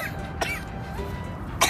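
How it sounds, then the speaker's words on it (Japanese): Two short, fairly quiet coughs from a person, one early and one at the end, over a low, steady background. "咳がね、まだね、治りませんね。"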